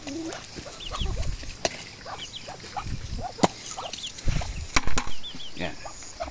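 Chickens and ducks feeding on chopped papaya, with scattered clucks and soft calls over a run of sharp pecking taps and occasional thumps, close by and fairly busy.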